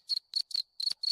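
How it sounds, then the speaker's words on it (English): Cricket chirp sound effect played from a Discord soundboard: five short, bright trilled chirps in a steady rhythm, clear and close with no other sound. "There's a cricket"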